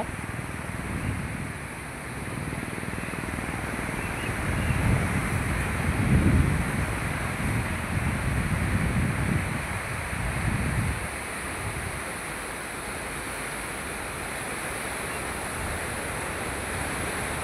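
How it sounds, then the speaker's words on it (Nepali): The Trishuli river in monsoon flood, a broad continuous roar of fast-flowing water with surging low rumbles swelling in the middle, steady and unbroken with no voices. "अहिले बर्खा मास भएको कारणले गर्दाखेरि त्रिशुली नदीमा पानीको बहाव बढी छ।"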